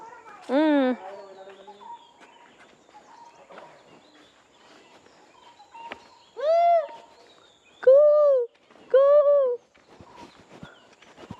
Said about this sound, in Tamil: மயில் அகவுற சத்தம் தானே